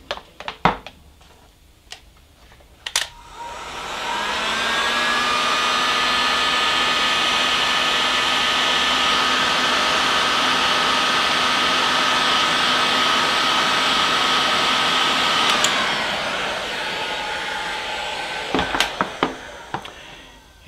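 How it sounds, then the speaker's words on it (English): Heat gun blowing steadily to shrink heat-shrink tubing over cut wires, a loud continuous whooshing hum lasting about eleven seconds, with clicks and handling noises before and after. "heat the whole thing up with a heat gun"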